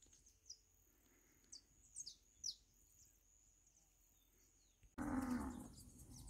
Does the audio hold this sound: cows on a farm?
yes